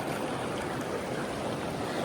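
River water rushes in a steady, broadband flowing hiss, close and continuous with no voices over it.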